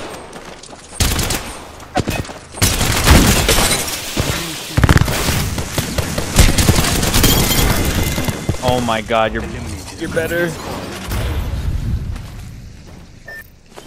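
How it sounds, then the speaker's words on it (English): Bursts of gunfire in Apex Legends crackle repeatedly in dense volleys, mixed with game effects, while players talk excitedly over them. "I heard gunshot far off"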